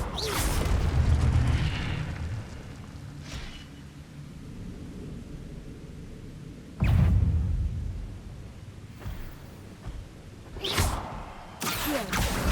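Incendio fire spells are cast in Hogwarts Legacy, each a sudden whooshing burst of flame with a deep boom, several hits spread apart amid a low rumbling battle ambience.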